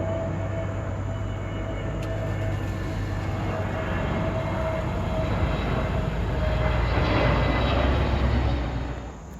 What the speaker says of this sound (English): Here comes a Boden-bound train coming down a straightaway, approaching Suffolk Downs.